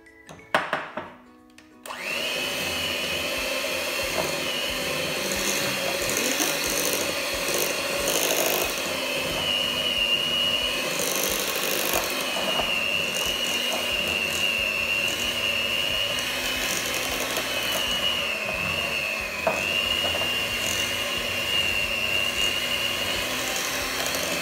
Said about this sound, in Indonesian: Jadi sampai benar-benar tepung dan mentega yang kita mixer sampai menyatu.